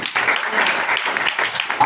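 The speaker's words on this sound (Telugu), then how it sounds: "చప్పట్లు కొట్టాలి." Applause from a church prayer-house congregation, dense steady clapping that fills the short moment, fairly close and even, with some voices mixed in underneath.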